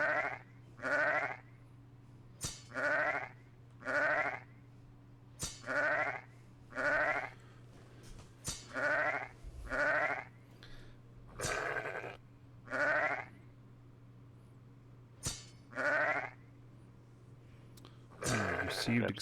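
Repeated sheep bleats in the Arcfall video game, about a dozen evenly spaced calls over a steady low hum, with a few sharp clicks and a short burst of game sound at the end.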